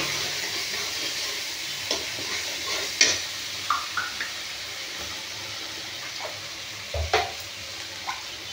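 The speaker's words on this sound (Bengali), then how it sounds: "তো মশলাটা আমি একটু কষিয়ে নিচ্ছি।" A spice paste sautés in a pan, making a soft, steady sizzle with intermittent scraping and knocking stirring strokes and a few louder clinks. No one speaks.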